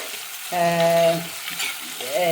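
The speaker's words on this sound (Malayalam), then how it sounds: "ഞാനിവിടെ ഈ കടുക് വറുത്തിട്ട് ഇതിനകത്ത് തന്നെ ഇട്ട് അങ്ങ് വഴറ്റുക ചെയ്യുന്നത്" Chopped ripe plantain sautéed in a pan with fried mustard seeds, a steady close sizzle and soft stirring under a voice that rises over it with sustained tones.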